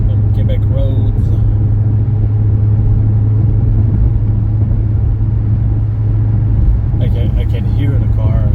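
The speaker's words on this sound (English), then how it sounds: "I can hear the car." Steady low rumble of a car driving on a highway at night in Quebec, constant road and engine drone close by, with faint voices at the start and end.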